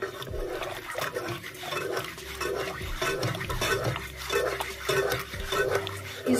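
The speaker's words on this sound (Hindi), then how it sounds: "अब इसमें कॉर्नफ्लोर शामिल कर दीजिए स्लो फ्लेम पर चम्मच हिलाते चले जाएं। चम्मच बिल्कुल नहीं रुकना चाहिए" A spoon keeps stirring orange jelly thickened with cornflour in a pot over a low flame, making a repeating rhythmic scrape and slosh close by.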